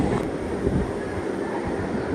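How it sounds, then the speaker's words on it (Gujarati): A Vande Bharat train pulls into Viramgam Junction: a steady, moderately loud low rail rumble with a faint metallic whine, heard briefly with no talking. "વંદે ભારત પણ આવી ગઈ છે ટ્રેન"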